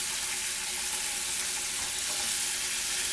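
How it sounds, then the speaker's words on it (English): Seafood sears in butter in a hot pan, a continuous, even sizzle heard up close and alone, holding at a constant level the whole time. "Make sure we get a little sear on both sides."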